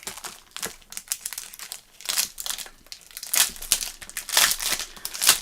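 Sheets of double-sided craft paper crinkle and rustle continuously up close as they are handled, with irregular bursts of louder crackling.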